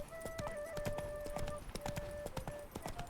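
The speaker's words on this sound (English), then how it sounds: "I should be able to call my beautiful horse now, Roach" Horse hooves trotting in The Witcher 3, a brisk, even clip-clop rhythm close by with a steady tone running underneath.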